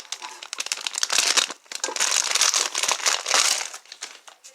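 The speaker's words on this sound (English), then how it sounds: "Let's start this plastic open." Plastic packaging around a new Chevy engine part being torn and crinkled open by hand, loud close crackling and rustling in uneven bursts.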